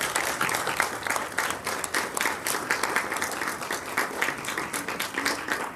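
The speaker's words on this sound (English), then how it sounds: "Could you all give Kevin a round of applause?" An indoor audience claps for a guest at a conversation-series event, giving steady, dense applause that carries on evenly throughout, with no voices standing out.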